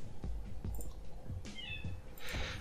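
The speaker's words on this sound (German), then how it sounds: "Meine ich das nur oder macht meine Katze Geräusche?" A house cat meows softly in the background of a room, a couple of short, faint calls, with scattered light clicks and no talking.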